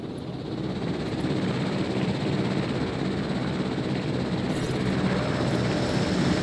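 A helicopter in a dinosaur park video game drones with a steady, dense rotor and engine roar that holds at constant loudness throughout, with no voices.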